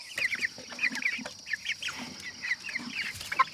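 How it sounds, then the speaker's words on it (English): Chickens clucking and squawking in short, busy bursts, with a rooster among them coming out, fairly close and continuous throughout. "Here comes out the rooster."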